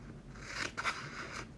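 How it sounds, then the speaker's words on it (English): Scissors snip through paper during a paper-cutting demonstration for optical illusions, giving a couple of quiet, brief crisp cuts with no talking. "We now cut them in 2, and now we're gonna cut in 3."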